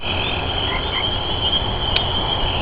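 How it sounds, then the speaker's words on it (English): Tree frogs call in a dense, steady evening chorus outdoors beside a bike ride, a continuous high trilling layer over low background noise with no talking. "A lot of tree frogs."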